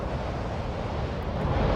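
Wind in the city-building game Cities Skylines 2 blows as a steady, fairly loud broadband rush and roar, unbroken for the whole stretch, with no voices.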